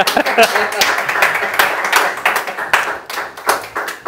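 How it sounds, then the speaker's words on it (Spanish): A small group claps in an uneven, slowish rhythm, individual hand claps standing out as distinct sharp beats with brief gaps, fairly close and loud, with voices mixed in. "Raro el aplauso, ¿eh? como que en cámara lenta"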